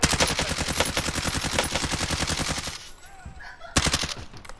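Rapid automatic gunfire in Call of Duty: Modern Warfare, a loud, dense stream of shots that cuts off, followed by a quieter pause and one more sharp burst.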